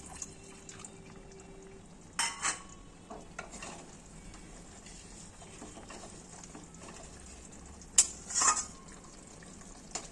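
A spoon stirs katla fish curry in a pan after garam masala paste goes in. Soft, steady sizzling runs under a few sharper scrapes and clanks against the pan.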